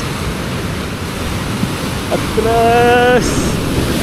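Heavy sea waves rush steadily at a fishing spot amid wind noise, while a person speaks a short word partway through over the surf.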